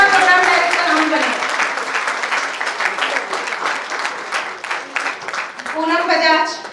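Loud audience applause fills a training event hall after two women are called up to receive mementos, steady dense clapping with cheering voices rising near the end.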